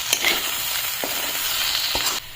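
Pork and potato pieces frying in a pan, a continuous close sizzle with faint stirring clicks, steady until it softens at the very end, no talking.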